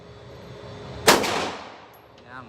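A single loud gunshot at an outdoor shooting range cracks sharply and rings out into a fading tail, with quiet background noise before and after.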